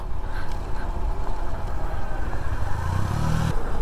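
Motorcycle engine running steadily on a steep, dangerous mountain road in Kashmir, rumbling loud and close with clatter; toward the end it shifts into a lower, smoother hum as the bike coasts in neutral.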